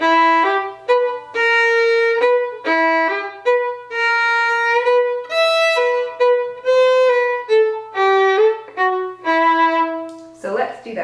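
A solo fiddle plays the short tagline from the ending part of a tune: a string of clear, separate bowed notes in a steady rhythm, close and loud, with no talking.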